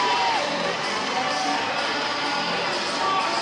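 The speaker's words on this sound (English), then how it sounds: "The crowd roars as the Nanners run out to throw sweet treats in their general direction." Baseball crowd at a Savannah Bananas Banana Ball game against the Firefighters, roaring and cheering steadily and loudly throughout, with shouts and whoops mixed into the dense stadium noise.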